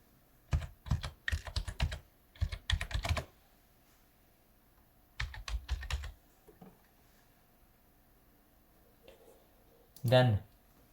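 Typing on a computer keyboard, several quick bursts of close key clicks separated by pauses, ending with a short sharper sound.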